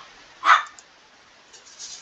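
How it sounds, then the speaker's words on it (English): A single sharp, loud dog bark close by in a room, followed by quiet with faint whimpering or shuffling toward the end. "Sorry about the dogs."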